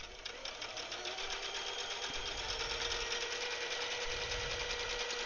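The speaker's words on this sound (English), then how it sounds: "I'm going to start stitching backwards a few stitches and then stitching forward." A sewing machine stitches a few stitches backward and then forward, giving a steady, close, continuous mechanical whir across the whole clip with no talk.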